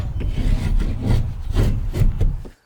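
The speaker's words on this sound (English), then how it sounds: "any hard object, like the shaft of your hammer, just rub it along, just soften that edge" A hammer shaft rubs back and forth along the wooden edge of a window rough opening in several rasping strokes, steady and close, with no voices.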